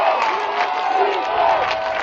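A college football stadium crowd, Northwestern's 2014 game, roars and cheers to urge the defense toward a stop, a broad steady din with a play-by-play announcer talking over it.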